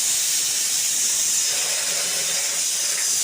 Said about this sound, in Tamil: இந்த அடுப்பில் குக்கரில் பருப்பு வேக வச்சுருக்கேன்